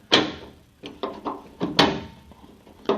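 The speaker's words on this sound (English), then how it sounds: "That latches the door" Latch mechanism on a 1968 Dodge Charger door, worked by hand: a series of sharp metallic clicks and clunks, close and fairly loud, about six distinct hits spread over a few seconds with no talk.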